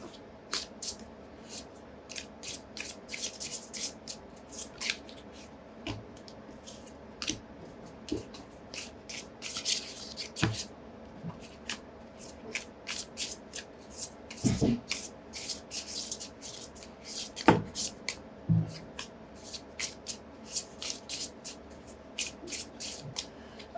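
Tarot cards shuffled by hand, soft rustling and riffling with scattered sharp snaps and taps, close and quiet, continuing steadily for a long stretch.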